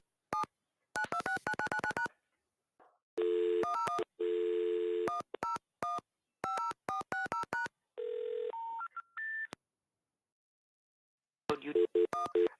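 Touch-tone telephone dialing through a phone diverter: rapid bursts of DTMF tones, with longer tone blocks and short gaps between them, clear and close.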